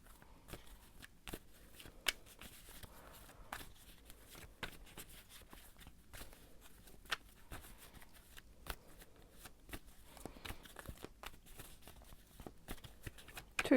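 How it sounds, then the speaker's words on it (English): Tarot cards shuffled continuously for a long stretch, soft papery riffling and light slaps repeating quietly at close range with no talking. "I'm going to shuffle and see what the cards have to say about your career"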